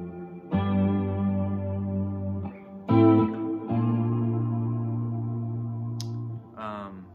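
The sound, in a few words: guitar through long reverb pedal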